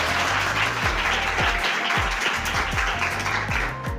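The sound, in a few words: audience applause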